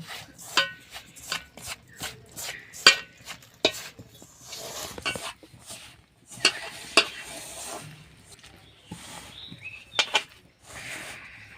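Rice flour and salt being mixed by hand with lukewarm water into dough for jhal pitha, with close, irregular taps, scrapes and soft clicks against the bowl and quiet gaps between.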